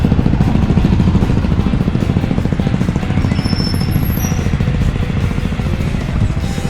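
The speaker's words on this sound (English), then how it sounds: "Traffic going." A street in Krabi, Thailand carries a steady flow of motorcycles and tuk-tuks, with a close, loud engine chugging in a rapid rhythmic putter against the background traffic.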